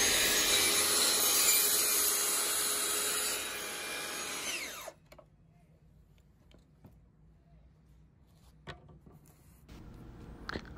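A power saw cuts off excess wood on a small woodworking project, a loud whining buzz that runs steadily, dips in pitch, then stops abruptly, leaving quiet room tone with a few light knocks.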